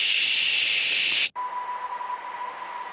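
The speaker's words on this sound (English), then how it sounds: "if you look at a dead cell, for instance, you will effectively hear something like a white noise" A dead cell's activity rendered as sound: a steady, loud white-noise hiss that cuts off abruptly, followed by a fainter hum with a thin steady tone.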